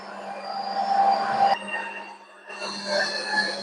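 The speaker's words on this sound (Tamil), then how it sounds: "பாருங்க பாருங்க எப்படி வந்து கத்தி கீழே இறங்கி மிக்ஸ் பண்ணுதாண்டு." An electric mixer grinder runs steadily, its blade churning homemade vanilla ice cream. The motor drone is loud and continuous with a high whine, dipping briefly midway before picking back up.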